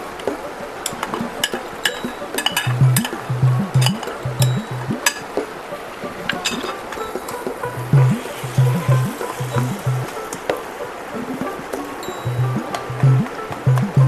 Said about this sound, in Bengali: শাকগুলোকে আমাদের তেলের সঙ্গে ভেজে নিতে হবে